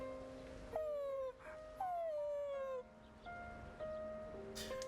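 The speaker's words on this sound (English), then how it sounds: "he's just made dog noises at me." Koromaru, the dog in the video game Persona 3 Reload, making a series of whining, yipping and howling calls, clear and moderately loud over a quiet background hum.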